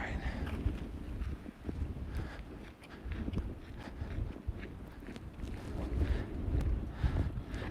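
Gusty outdoor wind rumbles and thumps against the microphone in uneven surges, low and steady with a few louder gusts, heard alongside faint footsteps.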